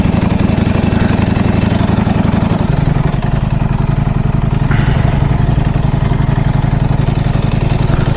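A Ducati Panigale V4 Lamborghini motorcycle on its stock exhaust idles close by with a steady, loud mechanical throb and a slight shift in tone partway through, with no talking.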